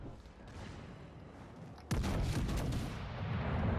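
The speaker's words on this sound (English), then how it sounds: "this thing sets fires like no tomorrow with secondaries" Secondary battery guns of the battleship Ohio in World of Warships Legends, a low rumble that bursts into a sudden loud barrage of rapid overlapping booms, continuing heavily to the end.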